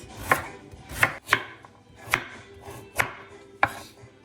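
Knife chopping sweet potato into bite-sized pieces for Jamaican-style coconut dumplings, six sharp, separate cuts on a board at an uneven pace, close and fairly quiet, with no talking.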